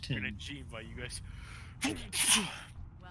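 A single sharp sneeze bursts out near the end of a few seconds of casual chatter during a World of Warcraft session.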